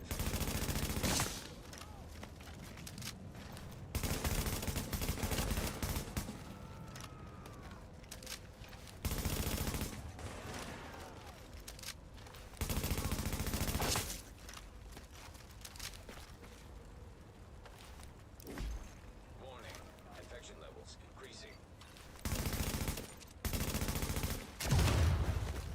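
Heavy-recoil automatic weapon fire in The Division, with loud sustained bursts of a few seconds each separated by quieter gaps, repeated about eight times, with faint footsteps between.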